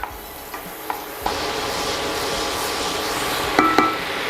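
Half a cup of butter melts and sizzles in a pan, a steady crackling hiss with a few faint clinks and taps of a utensil, close and without voices.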